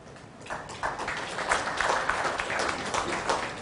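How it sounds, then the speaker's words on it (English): An audience applauds at a Smart City Summit conference talk in Kalyan, a dense wash of clapping that swells after a brief start and holds steady for a few seconds with no speech. "I thank you for the claps"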